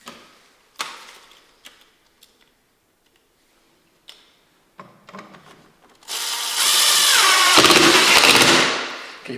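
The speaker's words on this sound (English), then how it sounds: "you will drill them in each quadrant of the box." A power drill drives screws into a box: a few scattered clicks and taps of handling, then a loud sustained whirring drill burst up close that runs for several seconds before winding down.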